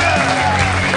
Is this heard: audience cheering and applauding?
yes